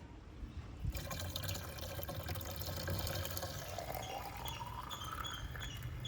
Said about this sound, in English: Once water fills till the top of the neck, you can just leave them be.